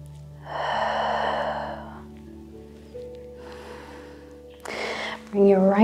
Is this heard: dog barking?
no